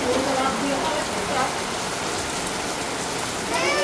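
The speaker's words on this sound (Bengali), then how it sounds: "এদিক দিয়ে দেখুন বৃষ্টি শুরু হয়েছে।" Rain falling steadily outdoors, a dense, even hiss of drops on surfaces, close and constant, with no voices.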